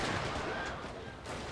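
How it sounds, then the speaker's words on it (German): Infantry musket volleys in a strategy video game battle, a dense, crackling burst of distant gunfire that thins briefly and then flares again. "Denn die Armee ist gerade am Schießen und sowieso schon unter großem Beschuss."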